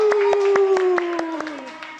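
Young primary pupils in a maths class clap together in a rhythmic, chant-like pattern of sharp, evenly spaced claps while a voice sings along over them, all close and fairly loud.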